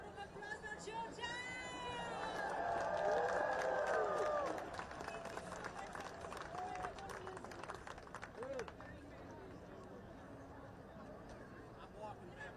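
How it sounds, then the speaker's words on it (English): Outdoor protest rally crowd cheering and clapping, a swelling wash of applause and shouts that fades into scattered claps and chatter, with voices talking nearby. "Can we have a round of applause"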